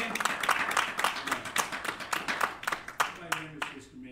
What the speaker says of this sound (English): Give them a big old hand clap.